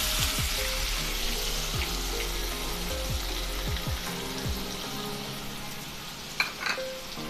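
Finely chopped onion frying in hot oil with Kashmiri chili powder, a steady broadband sizzle with a few low clunks of a spoon early on and a brief clatter near the end, no talking.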